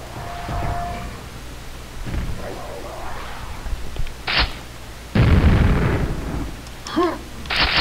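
Rocket launcher explosions in the Quake shooter game, a few heavy booming blasts with one big sustained burst near the middle, loud and close amid other gameplay noise.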